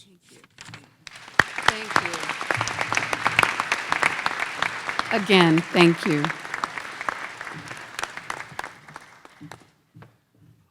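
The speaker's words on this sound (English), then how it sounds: "Let's have one more round of applause." An audience at an inauguration ceremony breaks into sustained, rippling applause with a few cheers, while someone speaks briefly over the clapping before it fades.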